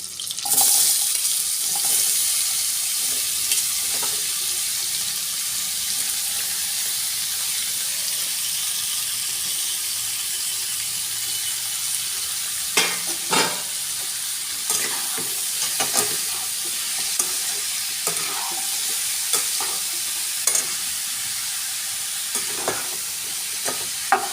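Cucumber pieces frying in a pan with bay leaf and green chillies, a steady bright sizzle with intermittent stirring scrapes and clinks, close and fairly loud, no talking.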